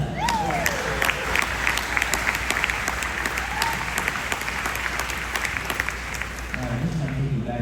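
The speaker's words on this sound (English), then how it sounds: "Okay, clap for that." Steady applause from a convention panel audience at SpaceCon 2025 in San Antonio, dense clapping sustained throughout with faint voices and whistles in the crowd.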